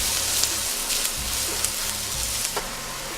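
Chopped garlic sizzles in hot oil in a pan for a coconut curry shrimp dish, a steady crackling hiss with a few soft stirring scrapes, close and without talk.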